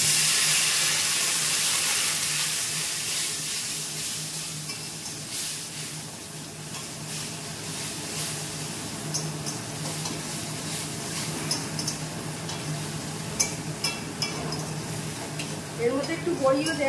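Eggplant sizzles and fries in a pan with turmeric and chili powder, a steady hiss with stirring scrapes, speech faintly audible in the background.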